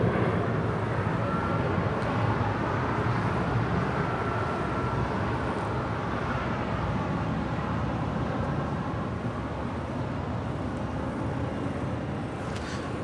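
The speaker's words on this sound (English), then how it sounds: "that is Air Canada, flight 577 on the 737 MAX 8" An Air Canada Boeing 737 MAX 8 lands at LAX on runway 24 right, arriving from Calgary. A steady, loud broadband jet roar holds through the whole stretch with no voices.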